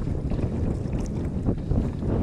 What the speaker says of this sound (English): Well, Long Pond, we're right into the wind on Long Pond here.